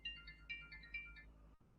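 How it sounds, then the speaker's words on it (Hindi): A phone ringtone chirps in a repeating melodic pattern of short bursts, fairly quiet, cutting off abruptly near the end with no talk over it. "अरे भाई, इस टाइम कौन फोन कर रहा है मुझे?"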